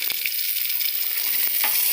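Chickpea khichuri sizzles and fries steadily in a pan as it is stirred, with a few sharp scraping clicks of the spoon cutting through the continuous hiss.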